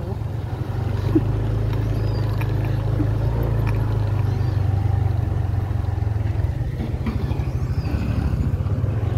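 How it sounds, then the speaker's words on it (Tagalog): A tricycle engine runs steadily throughout with a loud, low, continuous rumble, close by and without pause. "Tibay talaga ng tricycle ni Kuya Brooks."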